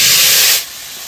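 Loud hissing sizzle as mutton goes into a hot pan with ginger and garlic, a burst of steam noise that drops to a quieter crackle after half a second.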